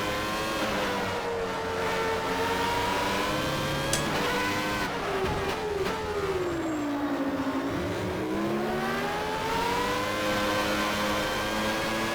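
A 1996 Formula 1 car in Automobilista revs hard and continuously, its high engine whine climbing and dropping through gear changes, loud and close with almost no talk.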